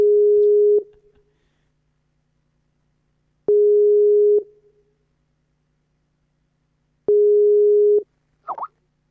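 Telephone line tone during a live call-in broadcast: three evenly spaced steady beeps, each lasting nearly a second, repeating about every three seconds, clear and loud, followed by a brief faint voice fragment.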